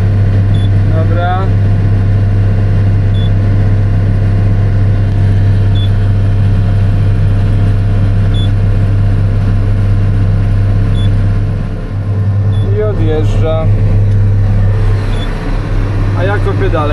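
A farm vehicle engine runs at night during a potato harvest, with a steady low hum and drone throughout and occasional clinks and rattles. A person talks over it.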